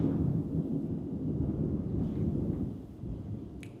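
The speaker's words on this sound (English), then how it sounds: "Whoa, we are getting a storm." Low rumbling thunder from an approaching storm, a continuous deep roll that swells and fades outdoors, fairly loud, with a faint crackle near the end and no voices.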